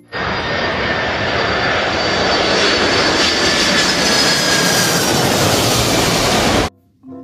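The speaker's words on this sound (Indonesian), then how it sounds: "Pesawat terbang." A loud, steady roar of an airplane engine, broad and continuous, holding level throughout before stopping suddenly.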